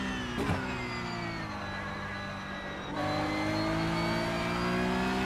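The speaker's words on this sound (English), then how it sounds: "I just mash the throttle down." A Porsche Cup car in a sim racing game holds a steady high engine note under full throttle, with sustained harmonic whine that briefly dips then climbs again after a short gear-like shift, alone with no talk.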